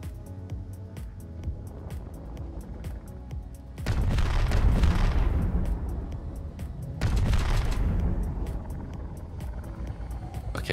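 A ship's cannons fire in the video game Space Engineers, two heavy booming blasts a few seconds apart rolling over a steady mechanical hum and a rapid ticking.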